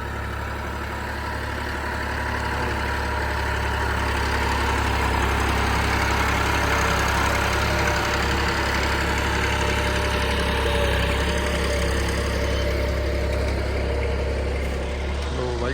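Loud, steady Massey Ferguson 9500 tractor engine idling with a deep, continuous rumble throughout, close by, with no break.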